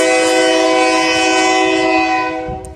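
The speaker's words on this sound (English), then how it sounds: "Shut up, you stupid train." A train horn blares loud and sustained at close range, a rich multi-tone chord holding steady for nearly three seconds before easing slightly at the end, with faint rumble of the train beneath.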